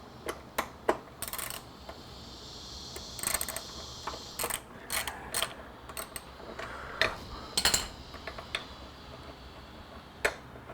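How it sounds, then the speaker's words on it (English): A socket wrench working a 10mm nut on a Honda CBR1000RR, giving scattered sharp metallic ratchet clicks and taps at irregular intervals over a faint steady background hum. "this nut here looks like it's a 10mm. Get a 10mm socket."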